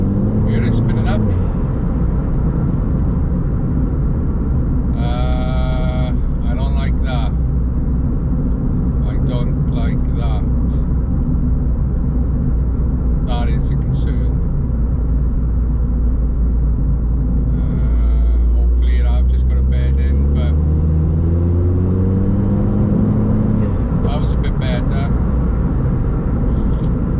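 Ford Fiesta ST with a plated differential accelerating in fifth gear, its engine a loud, steady cabin rumble that climbs in pitch as the torque comes in, with faint voices briefly audible over it.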